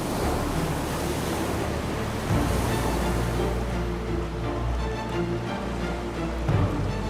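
Rough ocean surf churning through the narrow tidal channel between Scarba and Jura, where strong Atlantic currents and an underwater pinnacle raise towering standing waves; a steady, loud broadband roar with gusting wind, no voices.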